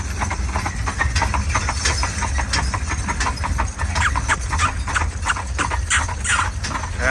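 Mules clip-clop steadily along a road while pulling a wagon, their hooves striking in a continuous quick rhythm, close and fairly loud, with wagon rattle and a faint engine hum underneath.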